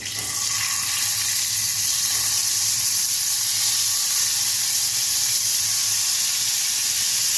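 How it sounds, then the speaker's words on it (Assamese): Fish frying in oil in a pan for a home-cooked dish, a steady, close sizzle and hiss that runs unbroken for the whole stretch with no talking. "প্ৰথমতে আমি মাছটো ফ্ৰাই কৰি লম।"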